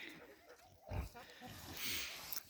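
Pigs on a farm grunting and snorting at close range, a few short low grunts mixed with rustling and shuffling, with a brief brighter noise near the end.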